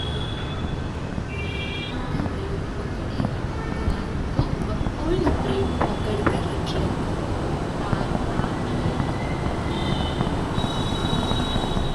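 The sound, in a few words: metro train station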